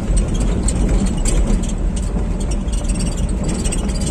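A car labours up a steep incline in first gear, its engine a loud, strained, steady drone with a low rumble and no pause across the few seconds.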